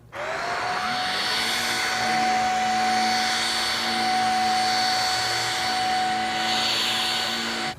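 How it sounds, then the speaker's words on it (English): A vacuum cleaner runs on artificial putting green panels indoors, giving a loud, steady motor whine with a sustained tonal hum from start to finish and no talk. "I'm just going to demonstrate how to vacuum it"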